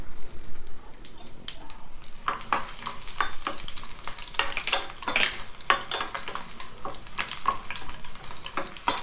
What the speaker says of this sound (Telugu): ఎల్లిపాయలు, తాలింపు గింజలు, ఎండుమిర్చి అన్నీ ఇట్లా వేయించుకోవాలి.